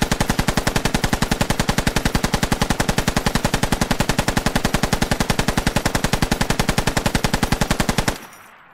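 A belt-fed machine gun in the game Squad, an M249 or M240 Bravo type, fires one long unbroken burst of rapid, evenly spaced loud shots for about eight seconds, then stops abruptly with a short tail.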